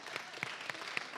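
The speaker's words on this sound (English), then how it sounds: "Everybody get a round of applause for Jared over there" An audience at a bridal industry conference session applauds, a fairly faint, scattered clapping with a few sharper individual claps standing out.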